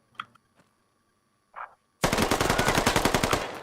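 Automatic gunfire in the tactical shooter Squad, a few faint distant shots followed by a sudden loud, close burst of rapid rounds in tight even rhythm.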